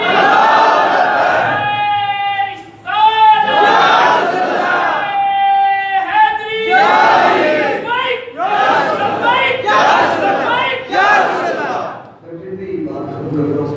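Crowd at a religious gathering answering with the Takbir slogan, repeated loud chanted calls alternating with a leader's voice, rhythmic and near, filling the space in waves.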